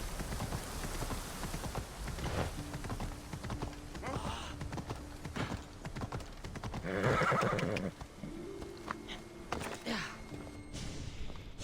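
A horse in Assassin's Creed Odyssey whinnies and its hooves clop amid game ambience and music, with a louder neighing burst near the middle over a steady background bed.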